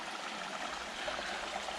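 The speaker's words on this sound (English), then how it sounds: "there is a little water in the brook" A small brook trickles steadily with a soft, even wash of flowing water, close by and continuous with no other sounds.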